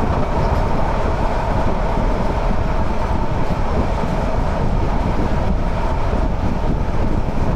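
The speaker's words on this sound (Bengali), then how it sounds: "ট্রেন কিন্তু আজকে সর্বোচ্চ স্পিডে যাওয়ার চেষ্টা করছে" A passenger train on the Cox's Bazar route in Bangladesh runs at top speed, a loud, dense, continuous rumble and rattle of wheels and carriages filling the whole stretch without pause.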